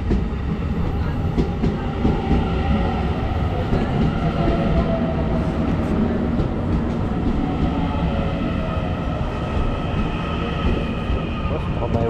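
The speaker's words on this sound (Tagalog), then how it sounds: "Ayun na yung train mga chaps." A train pulls into a station with a loud, sustained rumble and rattling of rail cars, filling the platform with continuous low-frequency noise and faint murmuring voices beneath.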